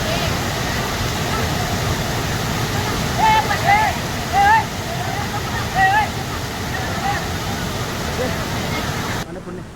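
Savatkada waterfall near Kolhapur roars as a constant broad rush of falling water, loud and unbroken, while people talk and call out over it.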